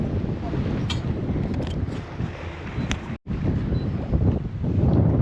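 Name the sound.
wind on a sailboat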